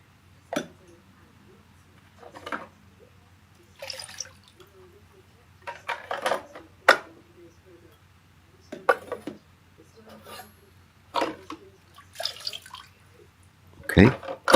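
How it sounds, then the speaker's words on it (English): Water is tipped out of the drip trays of a Nespresso Gemini coffee machine: about seven separate close splashing pours, each with a clatter of plastic, and quiet gaps between them. "what I've got to do now is empty these drip trays, which also collect water when you're descaling"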